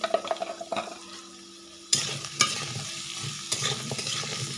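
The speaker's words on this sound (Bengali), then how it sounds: "চার থেকে পাঁচ মিনিট আমি কুমড়ার আলুটাকে একটু ভেজে নেব" Pumpkin and potato pieces with salt and turmeric fry in a pan, giving soft sizzling under a few sharp scraping stirs, with a short quiet gap before the spoon strikes return.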